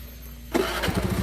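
A motorcycle engine rises abruptly from near silence into a loud, steady mid-pitched running note with pulsing revs, heard close up while riding at about 30 to 40 km per hour.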